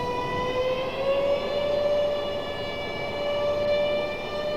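An aircraft engine revs up at RDU airport, a steady, loud, high-pitched whine with layered tones that rise slightly in pitch and hold for several seconds, with no talking.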